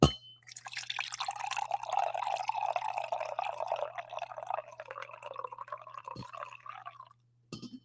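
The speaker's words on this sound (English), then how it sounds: "full, hearty pour for all of you ASMR coffee freaks out there" Brewed coffee poured into a cup, a close, continuous liquid stream with bubbling and dripping lasting several seconds, then tapering off near the end over a faint steady hum.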